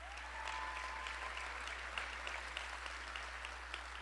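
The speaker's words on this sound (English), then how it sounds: "That deserves a huge round of applause." A room of people claps steadily and continuously, a dense even patter of applause at moderate distance.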